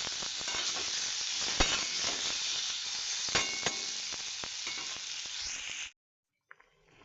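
Masoor dal with bottle gourd sizzles loudly in a pan, with sharp clinks of stirring scattered through, until the frying cuts off abruptly near the end, leaving a couple of faint knocks.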